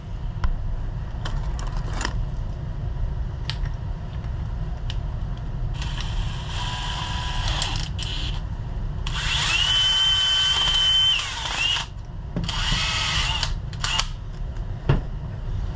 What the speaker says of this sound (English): Let's get a wire wheel.